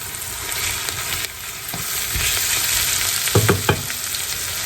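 Salted collard greens and cabbage are turned over in a pot with bacon and ham hocks, making a steady sizzle with a few sharp scraping and stirring knocks close by.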